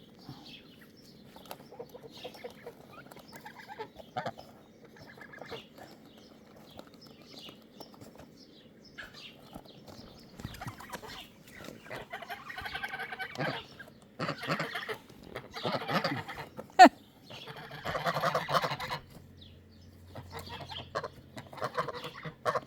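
Chickens cluck and squawk in scattered bursts that grow busier and louder toward the end, with a few faint voices in between.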